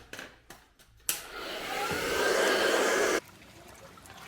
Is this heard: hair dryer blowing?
yes